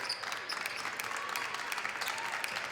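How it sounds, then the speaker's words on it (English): The home crowd at a high school basketball game cheers and applauds to urge its defense toward a stop, a steady roar of clapping and shouting that stays dense and fairly far off through the whole stretch. "Start to hear the Mustang crowd trying to will their defense to get a big-time stop"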